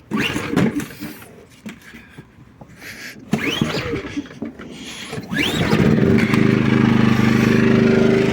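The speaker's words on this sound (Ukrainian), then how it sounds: "Запускаємо генератор." A petrol generator in a garage takes several rough pull-start attempts with sputters and clatter, then catches and settles into a loud, steady running hum in the last few seconds.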